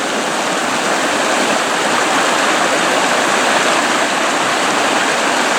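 Water rushes steadily along a stream bank on a mountain hike at Mont Dore, a loud, close, unbroken broadband rush with no voices.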